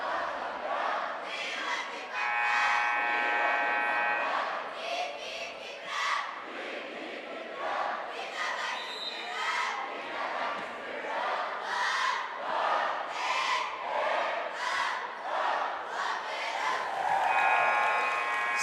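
A basketball student section chants and cheers loudly and continuously at a high school game between Pleasant Grove and Skyridge, a dense crowd roar with rhythmic shouted bursts that rise and fall throughout.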